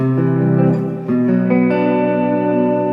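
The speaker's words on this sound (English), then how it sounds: "I have basically going on a chorus sound" Electric guitar chords ring out with a shimmering, wavering modulation and a touch of echo, sustained and clear with no talking.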